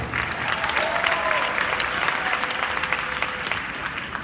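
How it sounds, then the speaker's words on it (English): A corporate event audience claps loudly and continuously for the staff, a dense, even roar of many hands filling the room, with faint tones running underneath. "Let's give a hand clap for them."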